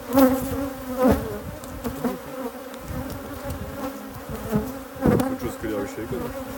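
Honeybees buzzing steadily around beehives during royal jelly harvesting, a continuous droning hum at moderate level with a few louder swells as insects pass close.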